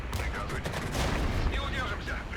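Enemy mortar fire rains down in the war game Regiments, heard as a dense run of overlapping booms and crackling blasts with rumbling low thuds, loud and continuous.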